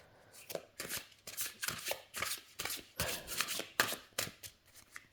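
A large deck of oracle cards being shuffled by hand, with rapid riffling bursts repeating in an uneven rhythm, close and crisp, with no voices.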